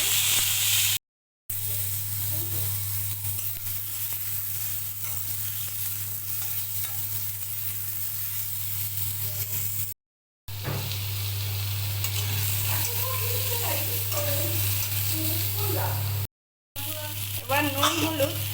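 Spices and dried red chillies sizzle and fry steadily in hot oil for mango chutney, a continuous close crackling hiss broken by a few brief gaps, with faint stirring scrapes and a low steady hum beneath.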